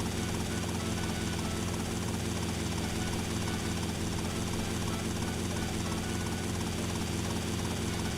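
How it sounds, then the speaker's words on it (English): A helicopter in the video game GTA Vice City drones steadily and loudly throughout, its rotor and engine roar holding constant with no break. "Helicopter."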